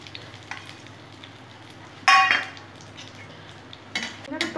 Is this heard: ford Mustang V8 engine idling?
no